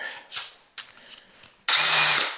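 A power drill with a Klein adjustable hole saw whirs in short bursts, then runs in one longer, louder spin that slowly winds down.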